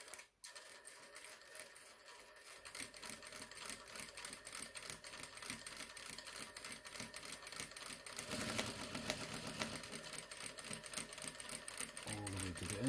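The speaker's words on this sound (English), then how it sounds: "we're going to start sewing from the start of that panel all the way to the end of the panel without back tacking" A sewing machine runs a gathering stitch along a fabric panel without back tacking, a steady rapid mechanical chatter that starts after a brief pause, fairly close and constant, speeding slightly toward the end.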